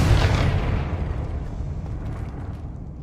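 A Confringo fire spell explodes in Hogwarts Legacy, a loud booming blast at the start that rolls off into a long, slowly fading rumble.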